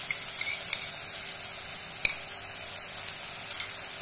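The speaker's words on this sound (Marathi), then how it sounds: "हे छान मिक्स करून देऊया" Schezwan chutney, red chilli sauce and soy sauce being stirred into fried rice in a hot pan, a steady close sizzle with soft scraping stirs and an occasional sharp clink of the utensil on the pan.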